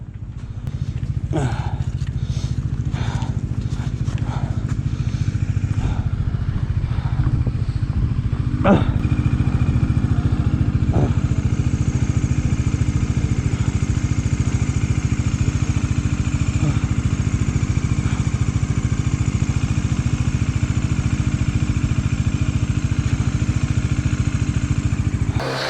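A Bajaj Dominar 400 motorcycle engine runs steadily close by after a Ladakh trip, a continuous low rumble throughout with a few clicks and clatters over it and people talking nearby.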